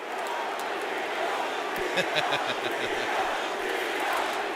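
Stadium crowd at an NFL game chanting a player's name, a rhythmic chant of many voices repeated several times over a roaring background, with a voice talking over it.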